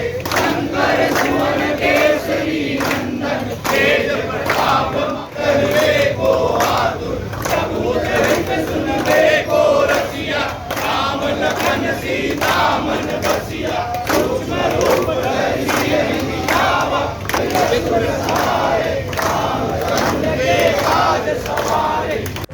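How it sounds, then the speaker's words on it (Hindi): A rally of nationalist Hindu youths chanting anti-terrorism slogans on the way to the collectorate, a loud and dense mass of voices shouting in rhythmic bursts that carry on without a break. "आतंकवाद मुर्दाबाद का नारा लगाते हुए कलेक्ट्रेट पहुंचे"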